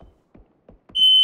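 A smoke alarm starts shrilling near the end, a loud steady high-pitched electronic tone after a few soft low thumps, sounding alone without talk.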